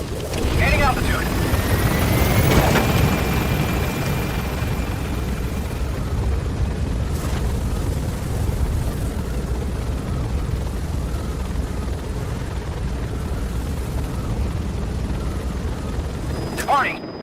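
The Pequod helicopter from the game Metal Gear Solid V climbs with a loud, steady rotor rumble that fills the whole stretch, with a radio voice speaking over it.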